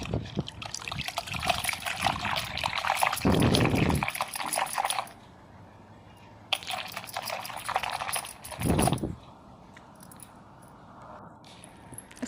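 Detergent stirred into water for washing anklets makes swishing, trickling liquid sounds in two bursts with a quiet pause between, close and fairly soft.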